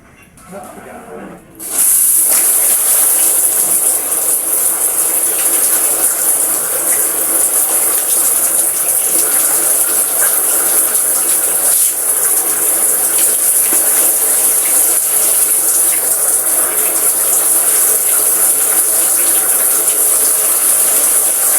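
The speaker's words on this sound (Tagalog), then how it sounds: "tapos na ako maligo" Shower water runs steadily during bathing, a loud continuous hiss and gush that starts abruptly after a quiet opening moment and then holds unbroken to the end.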